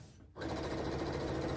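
A sewing machine stitches a quilt block for a murder mystery quilt, a steady fast mechanical whir that starts after a brief pause and runs continuously, close and fairly loud.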